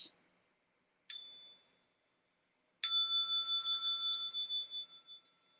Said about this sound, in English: small bell for stretching and massage.